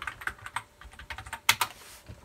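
Typing on a computer keyboard attached to an iMac G4 desktop, a run of irregular, close key clicks with a couple of harder strikes partway through, no talking.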